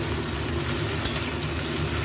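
Potato and okra frying in a pan give off a steady, close hiss of sizzling oil with no break, and one faint clink sounds near the middle.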